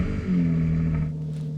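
Porsche 992 GT3 sports car with a Capristo exhaust, valves shut, revving hard: a loud, sustained engine note that climbs and then holds steady, close and alone for under two seconds.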